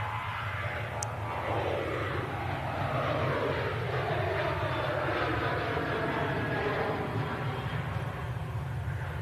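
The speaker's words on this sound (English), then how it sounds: "Beautiful departure there, 737 800 series, KLM flight 1072 on this beautiful day" KLM Boeing 737-800 jet airliner taking off for Amsterdam Schiphol, a broad, steady jet roar heard from a distance with a shifting whoosh as it passes.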